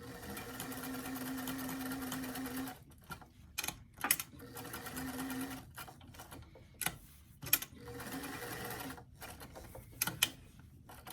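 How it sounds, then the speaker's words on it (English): A sewing machine stitches a quarter-inch seam to attach a pocket, whirring steadily up close and then running in short start-and-stop bursts with faint clicks between them. "So we're going to do a regular 1/4 inch seam to sew that pocket in place."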